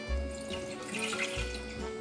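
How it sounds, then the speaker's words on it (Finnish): Water is poured into the top pot of a closed double boiler while water boils in the pot below, giving a short, close splashing pour with a faint low hum. "Lisätään tänne päälle vettä"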